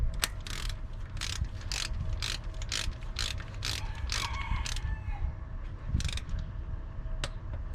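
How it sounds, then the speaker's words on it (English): A Snap-on torque wrench being set to 9 foot-pounds on a 2014 Honda Odyssey gives a rapid series of sharp ratchet clicks, about a dozen evenly spaced bursts, close and alone with no talk. "let me set up the torque wrench"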